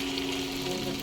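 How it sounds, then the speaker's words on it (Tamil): Egg chicken kola balls frying in hot oil in a pan, a steady, fairly quiet sizzle with a faint hum underneath, continuous for a brief moment with no talking. "இது அப்படியே நம்ம ஆயிலில் போட்டுக்கோங்க. எண்ணெய் காஞ்சிச்சு,"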